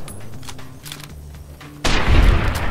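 Gunshot in Fallout New Vegas: after quiet ambient hum, a sudden loud close blast hits near the end and rings out with a booming tail.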